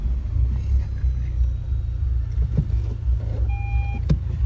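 A 4x4 vehicle moves along during a crossing of the Miriri River at Lucena, its engine a steady, close, low rumble with a couple of short electronic beeps near the end.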